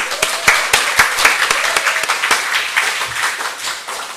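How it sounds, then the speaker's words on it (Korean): A church congregation applauding during a Wednesday service, fairly loud, dense clapping from many hands that holds steady and then thins slightly toward the end. "오늘 동영상을 만드신 우리 상섭 전도사님께 박수 한번"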